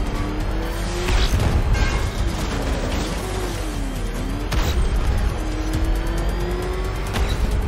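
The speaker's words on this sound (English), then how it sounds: "Enemy vehicle in pursuit." An armored vehicle chase in Batman: Arkham Knight brings a loud, continuous engine roar with revving pitch sweeps and tire squeals, dense and close throughout with no talking.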